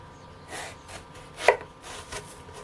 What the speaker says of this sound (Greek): Εδώ έχω δύο μεγάλες μελιτζάνες, είναι 600 γραμμάρια περίπου. Κόβουμε στη μέση